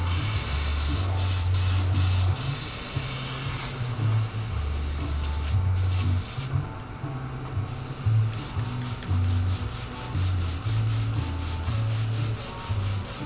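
An airbrush sprays metallic paint onto an RC car body, a steady close hiss of air that runs almost continuously with brief pauses and slight changes in pressure, heard alone without talk.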